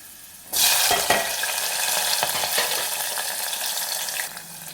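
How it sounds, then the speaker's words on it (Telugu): Onions and green chillies drop into a hot pan after a brief quiet moment, bursting into a sudden loud sizzle that holds steady and close, with a few light stirring knocks. "ఈ ఆనియన్ పచ్చిమిర్చి కొంచెం బ్రౌన్ కలర్లో వచ్చే వరకు అయితే వేసుకోవాలి"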